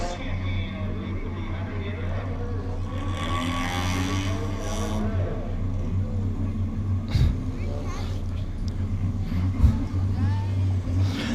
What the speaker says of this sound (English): I count 37 cars on the racetrack.